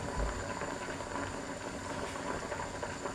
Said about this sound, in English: I'm just going to put the lid on that and simmer that for about 2 minutes